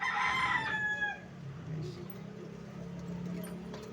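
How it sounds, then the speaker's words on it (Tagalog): A rooster crows once, loud and close, at the start, then fades out. Someone speaks quietly in the background through the rest. "Guwapong manok guys."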